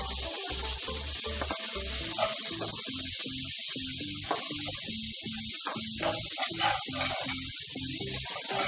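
Chicken cubes frying in a pan for Chinese fried rice with manchurian, a steady close spray-like sizzle and hiss running throughout, with soft intermittent lower clatter and movement beneath.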